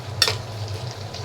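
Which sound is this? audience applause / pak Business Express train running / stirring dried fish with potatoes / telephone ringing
stirring dried fish with potatoes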